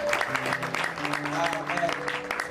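A congregation at a French-language church service applauds the Lord, steady clapping from many people mixed with voices and shouts, fairly loud and continuous throughout.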